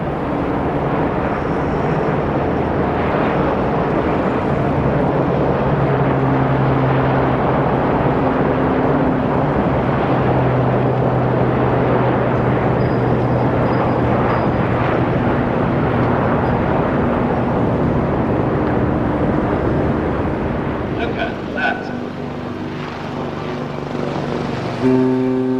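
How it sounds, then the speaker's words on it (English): Sea King, Lynx and Gazelle military helicopters flying past in a flypast, a loud continuous rotor and turbine roar with shifting tones as the aircraft pass, fading slightly toward the end. "And then come the helicopters, Sea Kings with their Falkland connotations,"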